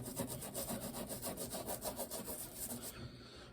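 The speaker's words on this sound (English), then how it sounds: "we're going to get a really good amount of that dirt off just with a little scrubbing" A brush scrubs dirt off a shoe in quick back-and-forth strokes, a continuous rhythmic bristly scraping close to the listener for about three seconds before stopping.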